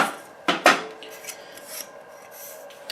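A file is drawn along the back side of a metal sideplate edge to remove a burr: two sharp rasping strokes close together, then lighter scrapes and small metallic clinks, close and alone.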